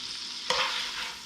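Andouille sausage hits a hot pot and starts frying, a sudden sizzle that swells and holds as a steady close hiss over a stirring scrape.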